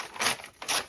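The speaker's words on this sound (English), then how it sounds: "And yet I keep ripping." Paper scraps being ripped by hand, two short, close tearing bursts in quick succession.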